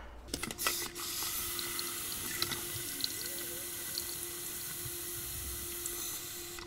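Tap water runs steadily into a 4-litre jug, a continuous hiss and splash with a rising tone as it fills, nearby and alone with no talk.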